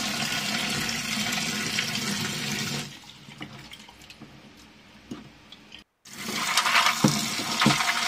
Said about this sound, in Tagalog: hugasan din natin yung black-eyed beans or puting sitaw.